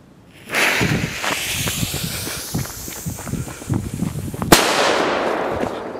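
Dense crackling firecracker bursts from a Weco cube firecracker, a fast rattle of sharp pops lasting several seconds, capped by one loud, sharp bang before a fading hiss.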